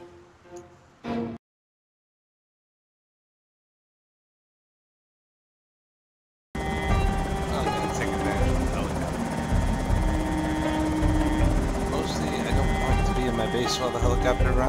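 After a brief burst and a stretch of silence, a helicopter engine in a video game drones steadily with a rhythmic rotor chop, sustained and fairly loud.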